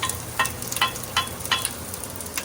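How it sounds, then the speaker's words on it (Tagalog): Onion and garlic sautéing in a pan for pork sinigang, a soft steady sizzle broken by several sharp clicks and scrapes of stirring at a regular pace, close and fairly quiet with no talk. "Igisa natin."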